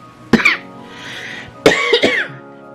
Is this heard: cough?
yes